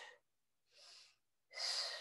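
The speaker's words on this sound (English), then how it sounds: "Blow the air out as you punch." During a punching workout, a person pushes out three forceful, breathy exhales through the mouth, each short and close, the last loudest, with silent pauses between.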